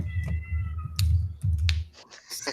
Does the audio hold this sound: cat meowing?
yes